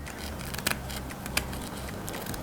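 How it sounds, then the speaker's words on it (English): Scissors snipping away excess fabric close to the stitching on a handmade vintage-style book cover, with two brief crisp cuts standing out over a low steady background hum. "we're now ready to cut these extra fabric on the sides away"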